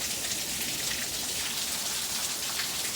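Steady rain falling in San Diego, a continuous dense hiss of drops on surfaces with no pauses, no voices and no thunder.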